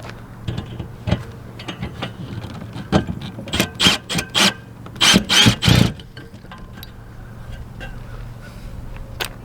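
A hand ratchet clicks in rapid bursts while turning a bolt to get it started, loud and close, with several separate runs of ratcheting clicks in the middle of the clip and quieter handling noise around them.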